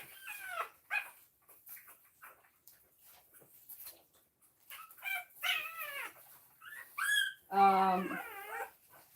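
French bulldog puppy crying from hunger, with repeated thin, high whimpers and squeals in short bursts throughout, ending in a louder, longer wail close by.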